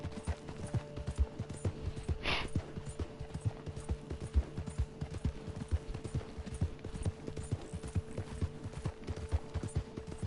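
Horse hooves clip-clop steadily in the video game Red Dead Redemption II, a regular rhythmic trot heard at moderate distance over soft ambient background, with a brief whoosh partway through and no speech.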